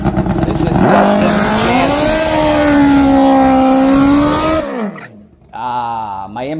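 A nitrous-fed GS drag bike engine roars loud and close, holding a high rising pitch for several seconds before cutting off, then barking back briefly at the end.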